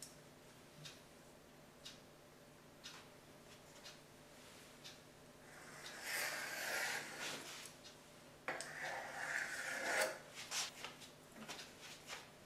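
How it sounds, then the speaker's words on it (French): Puff pastry is cut into circles for a frangipane galette des rois, giving faint scattered taps and soft scraping bursts in a quiet kitchen, with a steady tick in the background. "on va découper des cercles de pâte feuilletée"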